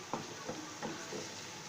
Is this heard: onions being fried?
yes